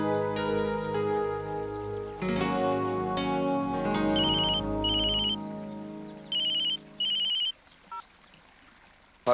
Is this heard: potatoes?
no